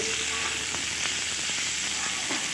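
Fried potatoes and ground roasted spices are stirred in a pan for a vegetarian curry with lentil dumplings, producing a steady close sizzle broken by faint, regular scraping taps of a spatula.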